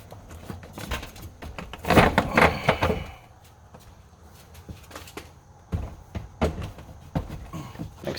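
A car door panel on a Buick Regal GS is pressed back onto the door, giving a cluster of close plastic knocks, rattles and snaps, then scattered lighter clicks and taps.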